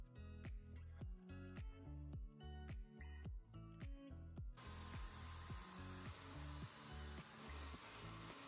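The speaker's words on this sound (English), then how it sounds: "spraying the same primer in the same way" A spray gun hisses steadily spraying primer for several seconds after a run of rhythmic clunks, a loud continuous airy spray close by.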